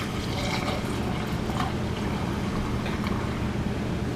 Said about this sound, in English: you're just going to pour this in here